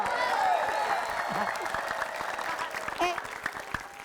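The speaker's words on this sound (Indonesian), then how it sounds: "Tepuk tangan dulu." A studio audience on an Indonesian television comedy show claps in a loud, continuous burst while voices carry over the applause.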